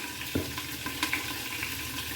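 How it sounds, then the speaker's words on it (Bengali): Cauliflower pieces fry in a pan for Bengali steamed cauliflower, with a dense, even sizzle up close and occasional light clicks and scrapes from stirring. No one speaks. "কপিগুলো ভাজা হোক"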